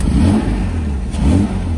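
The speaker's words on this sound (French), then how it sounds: "une Austin Hillet, ça fait un bruit magnifique, surtout que celle-ci a un échappement inox qui est quand même assez sympa" A 1966 Austin Healey 3000 MK3 with a stainless exhaust revs steadily close up, its engine note rising and falling twice in a loud, continuous drone with no talking.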